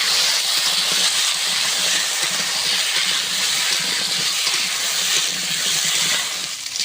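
Potatoes and taro frying together in a pan with salt and turmeric for a rohu fish curry, a steady loud broadband hiss and sizzle running continuously without a break.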